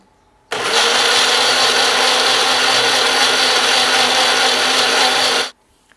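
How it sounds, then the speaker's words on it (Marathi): A mixer grinder blending chocolate lassi with sugar, a loud, steady whirring motor roar that starts abruptly, holds evenly for about five seconds and stops sharply, close up with no voices. "मिक्सरला फिरवून घेते."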